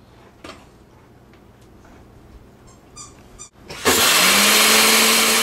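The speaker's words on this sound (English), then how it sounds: "Pulverize the corn." After a few light clicks and rattles, a powerful blender-type machine roars on abruptly and runs loud and steady, pulverizing frozen dehydrated corn with a bright whirring grind that rises slightly in pitch as it spins up.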